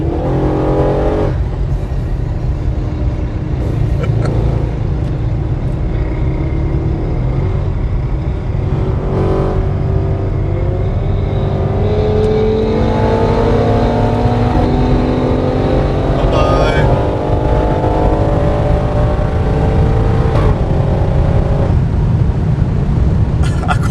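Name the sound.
Audi RS6 car engine revving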